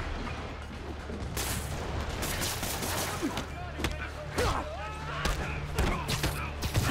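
Rocket barrage in Marvel's Spider-Man Remastered video game: repeated whooshing launches and explosive bursts over a steady rumble, with several sharp impacts spaced irregularly. Game voices speak over the action at times.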